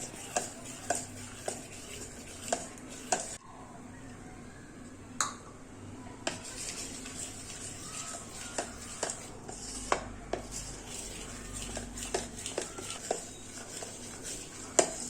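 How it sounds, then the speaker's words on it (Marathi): Gram flour batter for khaman dhokla is stirred and whisked in a bowl, with rhythmic light ticking knocks of the utensil against the rim over a low background hum, close and fairly quiet, and no talking. "हे सर्व गुठळी काढून व्यवस्थित पीठ भिजवून घेतले"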